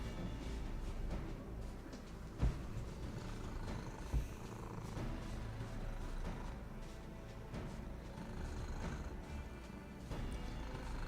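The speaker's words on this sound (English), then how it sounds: "She purrs so loud." Soft, steady cat purring close by, a low continuous rumble with a couple of faint thumps.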